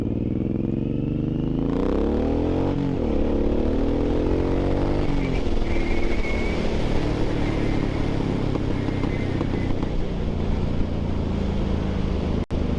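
A Suzuki M109R motorcycle accelerates hard on a hot ride, its engine revving up, dropping briefly at a gear shift, then pulling on with a loud, rough drone and wind rush close by.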